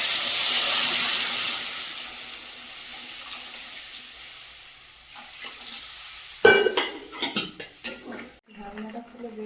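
Water poured into a pan of sautéed vegetables spiced with cumin paste, cooking for a fish curry, gives a loud hiss and sizzle that fades to a soft simmer, followed by clattering of utensils against the pan.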